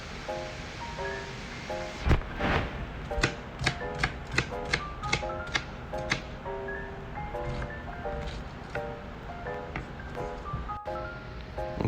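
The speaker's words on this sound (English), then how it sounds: "now roughly chop an onion right down the center." A knife roughly chops an onion down the center on a cutting board during kitchen prep for BBQ ribs: a close series of about a dozen sharp, evenly spaced chops, with no talking.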